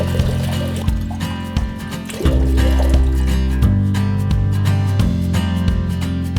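Fresh water runs from an old Turkish fountain in Taman, a steady splashing flow close by with a low musical tone, heard alone without speech.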